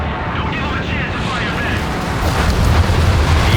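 Carpet bomb explosions in a World War II strategy game, with rumbling booms rolling continuously and swelling louder toward the end.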